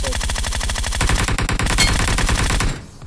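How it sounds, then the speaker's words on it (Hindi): Sustained automatic Groza rifle fire in the BGMI (PUBG) video game: a rapid, continuous stream of loud, close shots for nearly three seconds, then cutting off abruptly with a brief trailing echo. "इनके दो बंदे वॉल के पीछे होते हैं, तो मैं फायरिंग देता हूँ"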